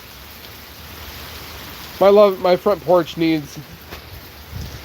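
Steady morning rain falls outside by a front porch with old wood, a soft continuous hiss throughout, while a person briefly talks over it midway.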